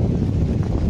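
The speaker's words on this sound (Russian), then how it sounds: "Вот такое ветрище." Strong, cold wind buffeting the microphone outdoors, a low roaring rumble with gusty swells and no voices.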